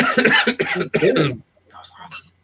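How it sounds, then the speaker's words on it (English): A person with a lingering cough coughs during a chatty livestream, several harsh bursts packed into the first second and a half, followed by a quieter, rougher throaty sound. "I've still got this cough."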